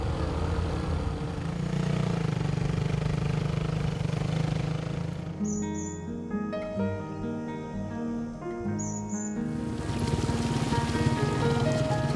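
A motorcycle engine drones steadily while riding along a rough mountain road in Indonesia, loud and continuous, with a stretch of music-like tones in the middle.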